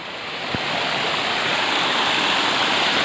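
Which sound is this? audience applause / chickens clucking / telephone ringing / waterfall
waterfall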